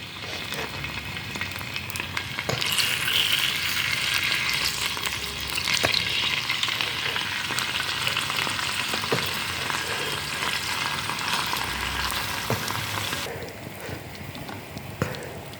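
Masala-coated fish fries in hot groundnut or sesame oil on a stove, a continuous loud sizzle with occasional spits and light clinks of a utensil, no talking.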